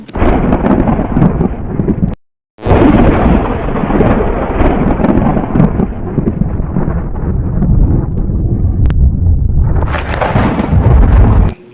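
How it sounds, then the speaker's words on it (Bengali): Steady, heavy rain pours down with low rumbles of thunder rolling through, loud and continuous apart from a brief silent break, swelling again toward the end. "যেভাবে বৃষ্টি হচ্ছে"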